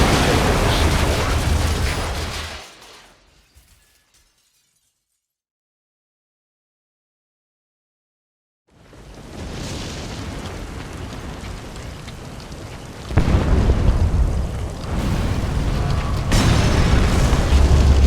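A separator tank blows up in Metal Gear Solid V: The Phantom Pain, a loud rumbling blast with a long roaring, crackling tail that fades to silence, then renewed heavy rumble and debris-like noise with some voice.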